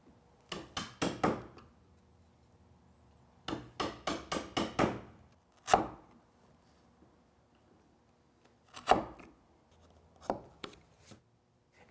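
Chisel and mallet cleaning waste from dovetail sockets in a wooden workpiece: short bursts of sharp, rapid taps, then isolated single strikes with quiet pauses between, close and fairly soft, with no one speaking.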